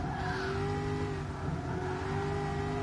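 An American road car's engine in GT Sport drones steadily and loudly with sustained harmonic tones, tire noise beneath, continuous throughout with no talk.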